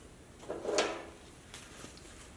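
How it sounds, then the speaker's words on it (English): A drawer on a Harbor Freight tool cart slides open with a brief rolling scrape, followed a moment later by a softer sliding knock as it shuts, close by and with no voices. "Put it in a little handy dandy drawer right there."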